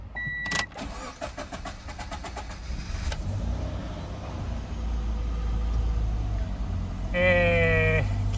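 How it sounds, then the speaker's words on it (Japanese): A Toyota 86 (ZN6) engine cranks and catches after a starter whine, then settles into a steady low idle, with a brief electronic chime at the end. "ではエンジンをかけてみたいと思います"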